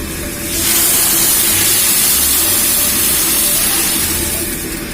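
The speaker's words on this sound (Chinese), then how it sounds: "加入开水，一定要是开水" Boiling water pours into a hot pan holding fried crucian carp and egg for tofu soup, giving a loud, steady hissing rush that starts after a brief quieter moment and continues unbroken to the end.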